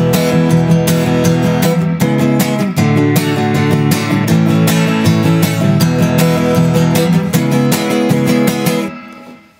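Guitar playing the chorus of a song in D, with dense sustained strummed chords in a steady rhythm, loud and close, ringing out and fading at the end with no talking.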